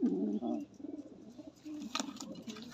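Pigeons in a loft coo softly in low, murmuring bursts, faint and close, with a brief sharper flutter or call near the middle.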